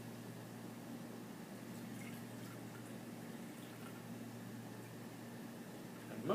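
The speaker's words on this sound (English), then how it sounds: "The sugar water is going to drain through." Sugar water and sand draining through a paper coffee filter make a steady, faint trickling hiss, continuous and even throughout with no voices.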